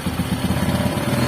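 A Honda Supra X 125 motorcycle engine runs steadily during carburetor tuning, a close, even mid-pitched chug with a regular pulsing beat.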